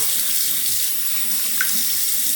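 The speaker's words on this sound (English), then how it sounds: "gonna rinse out the stones and move on to the next final finishing steps here." Water runs steadily from a tap, rinsing Shapton sharpening stones in a sink, a loud, continuous hiss and splash with no voices.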